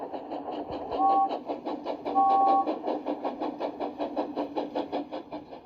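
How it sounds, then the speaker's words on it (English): A steam locomotive whistle sounds in two short, clear blasts over a steady rhythmic chuffing and clanking of the engine, fairly close and loud, with background music throughout. "So steam engines blow their whistles."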